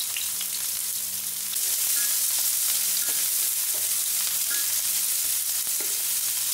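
Onion, ginger and garlic sizzle steadily in hot oil in a pan, sautéed as aromatics for ground beef with bitter melon. The frying hiss is close and continuous, with faint stirring clinks and no talking.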